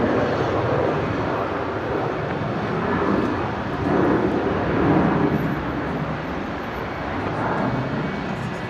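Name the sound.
Velocity 73 airliner departing Brisbane airport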